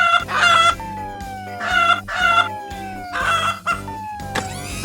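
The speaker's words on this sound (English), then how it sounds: "You've started clucking like a hen." A cartoon monster truck siren clucks and crows like a hen, repeated loud bursts with falling whistle-like tones between them, close and alone.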